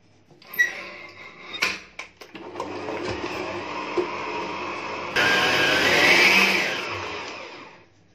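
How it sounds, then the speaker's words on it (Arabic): Electric mixer beating sugar into butter for Egyptian kahk cookies, a few thumps at first, then a steady whirring drone that grows louder and faster before easing off. "هحط السكر على الزبدة واخدهم اخفقهم كويس"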